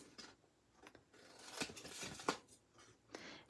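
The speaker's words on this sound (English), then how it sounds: "Take your scissors, cut off the corners from score line to score line." Scissors trim the corners off a scored paper craft piece from one score line to the next, making a series of soft, crisp snips that are close and quiet, with no talk.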